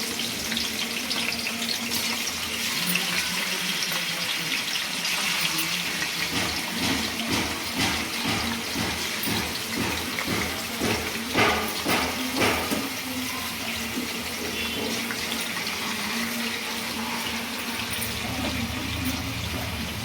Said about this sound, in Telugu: సో ఒక్కొక్క పీస్ని యాడ్ చేసుకున్నాం దీంట్లో ఆయిల్లోకి. సో సేమ్ ఆయిల్లోకి వేసేస్తున్నాం.